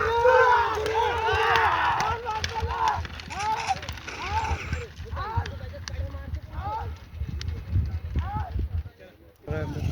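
Hooves of a bullock pair pound past at a run in a bullock cart race, loud and close, with crowd shouts and voices all around.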